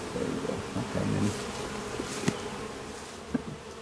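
Honeybees, mostly nursing bees, buzz in a top bar hive, a continuous close drone with a few faint knocks and clicks of handling on top.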